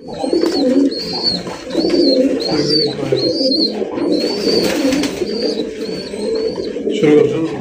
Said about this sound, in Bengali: দর্শক বন্ধুরা চলেন এক এক করে কবুতরগুলো দেখাবো